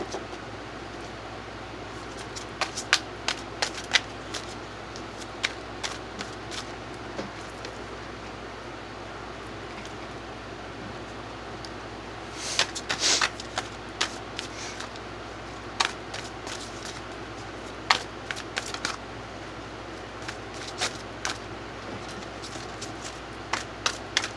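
Tarot cards being shuffled for a reading, heard as soft, intermittent riffles and flicks up close over a steady hiss, busiest in short bursts partway through.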